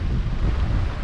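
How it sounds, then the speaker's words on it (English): Strong wind buffets the microphone on the sandy coast at Shark Bay, Western Australia, a continuous low roaring rumble with no voices over it. "too windy to get the drone up"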